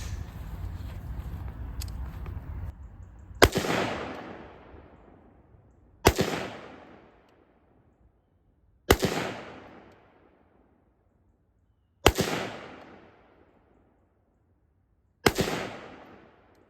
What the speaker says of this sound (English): So we're going to go 5 shots at 25 yards.